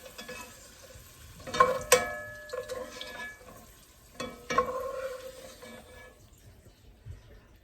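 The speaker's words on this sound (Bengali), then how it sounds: "আলুটা ভেজে নিচ্ছি" Potatoes fry in oil with a faint, soft sizzle. Sharp clinks and knocks of a utensil against the pan break in now and then, close by and without speech.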